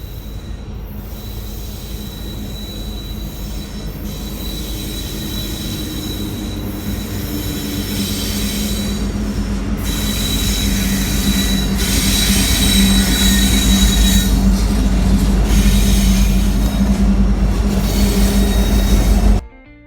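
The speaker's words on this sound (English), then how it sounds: "the loaded coal train creaking on the rails" A loaded coal train rolling slowly past on the rails, a long, loud stretch of creaking and high wheel squeal over a heavy rumble that builds steadily before cutting off.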